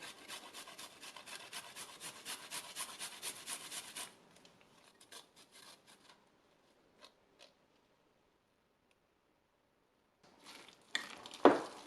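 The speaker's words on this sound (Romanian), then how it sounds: "Radem și usturoiul." Garlic grated by hand for eggplant and mozzarella patties, a quick run of rhythmic rasping strokes for about four seconds, then sparse scrapes, a quiet gap and some louder handling noises at the end.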